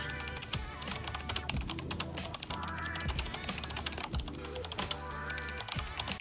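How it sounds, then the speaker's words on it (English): Fast, continuous typing on a computer keyboard, with dense key clicks close and clear over a steady low background hum for several seconds, without any talking. "So it's time to start typing."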